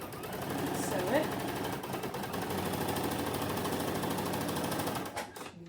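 A sewing machine stitches through folded, starched fabric in a steady, close mechanical chatter that runs for about five seconds before stopping abruptly.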